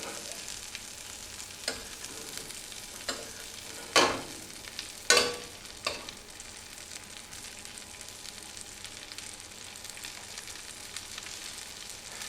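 Fish basted in a frying pan during home cooking, a steady close sizzle with a few louder spoon-and-splash bursts partway through, then settling back to an even crackle.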